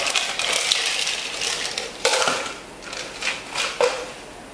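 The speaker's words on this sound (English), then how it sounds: "Later, we add ice cube." Ice cubes clatter into a cup of fruit tea drink in a few sharp, close knocks and rattles, with a brief scattered tumble between the louder drops.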